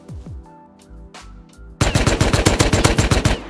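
Thompson submachine gun in the video game Rust, preceded by a few scattered game sounds, then a loud, sustained burst of about fifteen rapid, evenly spaced shots lasting almost two seconds, close and alone without voices.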